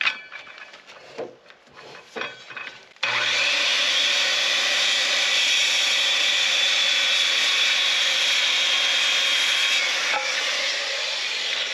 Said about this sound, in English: So I'm gonna go cut a couple studs and then I'll be back.